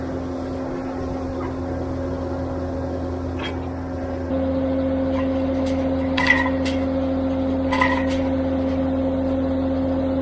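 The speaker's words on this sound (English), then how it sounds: "We're driving a mile down gravel roads." A vehicle rolls along a gravel road with a steady engine drone and low rumble, getting a touch louder partway through, with a few sharp knocks and rattles over the top.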